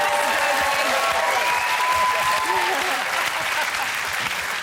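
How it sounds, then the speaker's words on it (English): A comedy quiz show studio audience claps loudly and steadily throughout, a thick continuous wash of applause with no break. "Round of applause, they got it right."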